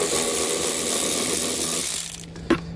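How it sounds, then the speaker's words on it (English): A 10 mm socket turns out a bolt holding a driver's side panel on a 2017 Infiniti Q, a loud, close, continuous tool whir for about two seconds that stops, followed by a sharp click. "So we'll use that 10 millimeter socket."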